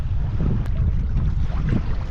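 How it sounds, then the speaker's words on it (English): Gusty wind rumbles and buffets the microphone in a loud, low, continuous roar. "It's windy out. Crazy windy."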